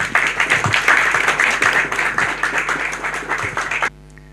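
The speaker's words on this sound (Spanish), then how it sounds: "Un aplauso para Santiago" An audience gives a speaker a warm round of applause at a book presentation, steady clapping for nearly four seconds before cutting off abruptly into quiet.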